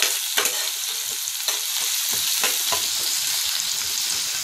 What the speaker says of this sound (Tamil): ஆனியன் கொஞ்சம் வதங்கணும்.